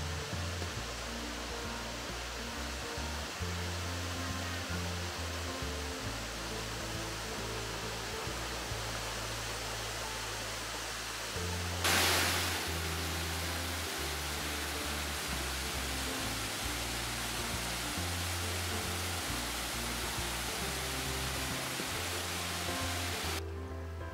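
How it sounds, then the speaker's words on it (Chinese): A large waterfall in the forest of Silver Falls State Park, Oregon, roars as a constant, even rush of broadband water noise, with no voices and only a brief swell midway. "它是藏在深山里边的一个大瀑布"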